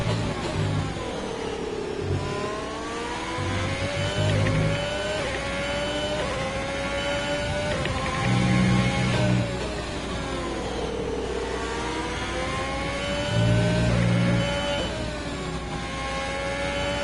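A Formula 1 car engine racing in the F1 2020 video game screams at high revs, its pitch sweeping up and down repeatedly through gear changes and braking, loud and continuous over a low rumble.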